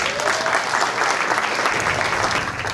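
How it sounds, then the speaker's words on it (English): An audience gives loud, close applause to welcome a speaker, a thick, steady roar of many hands clapping at once that holds strong for the whole stretch and barely fades at the end. "So please give me a round of applause and help me welcome David Hackney."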